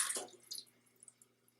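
Water poured from a cup into a saucepan holding about two cups of dates: a short splashy gush at the start, then fading trickles and a few light drips, close and alone.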